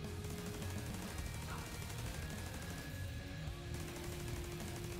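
Sustained automatic turret gunfire in The Division 2, Warlords of New York DLC, rattling steadily for several seconds as a dense, continuous burst amid game noise.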